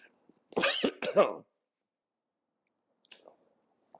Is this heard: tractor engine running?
no